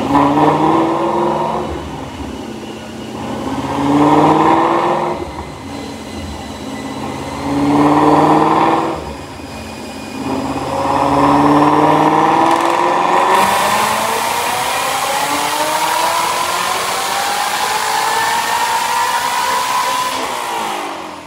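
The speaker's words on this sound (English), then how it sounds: "Check out this dyno pull." A 2019 Ford GT350 Mustang fitted with a Whipple supercharger runs on a dyno, with short revving bursts in a rising and falling rhythm, then one long, loud pull climbing steadily in pitch before cutting off.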